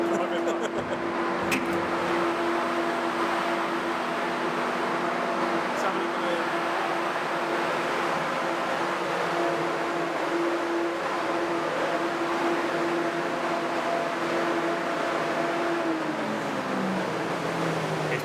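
A twin-turbo Ford Fiesta engine runs on a dyno in fifth gear with the boost wound up to 18, making a steady, loud droning hum with whining tones that drop in pitch near the end.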